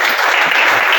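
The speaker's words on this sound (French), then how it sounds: "Acclamez le Seigneur" A church congregation applauding the Lord during a prayer service, a dense burst of loud, close clapping from many hands, brief and continuous.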